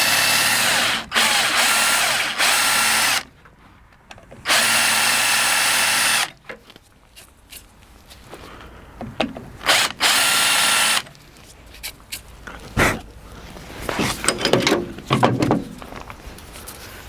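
A hand drill bores out two rivets on a Peugeot 205 GTI body panel, a close, loud whirring in several short bursts separated by pauses, then lighter scraping and clicking handling sounds.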